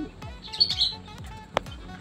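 Pet birds chirp close by in short, bright, sharp tweets scattered across two seconds, one louder chirp near the end, with faint background noise and no talk.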